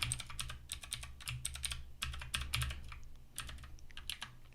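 Rapid bursts of typing on a computer keyboard while entering shortcuts in Adobe Illustrator, close and clear, with irregular clusters of key clicks and brief pauses under a steady low hum.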